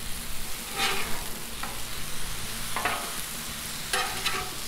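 Oil spreading on a hot Blackstone griddle, giving a steady soft sizzle with a few scraping strokes from a spatula scattered through it.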